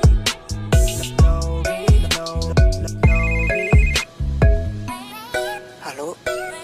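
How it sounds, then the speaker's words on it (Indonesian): A phone rings with an incoming call during a PUBG mobile game session, a loud melodic ringtone of repeated bright chimes that bounces in a quick rhythm over the whole stretch and sits up front. "dapat telepon lagi"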